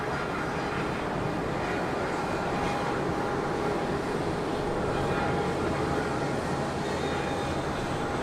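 An American airliner rolls for takeoff on runway 36 center at Charlotte Douglas on a windy day, a loud, steady broadband engine roar that holds at full strength throughout.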